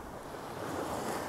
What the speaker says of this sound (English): Here comes a wave.